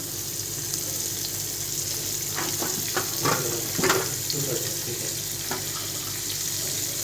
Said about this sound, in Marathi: असे कमी गॅसवर मस्तपैकी छान अशी फ्राय करून घ्यायची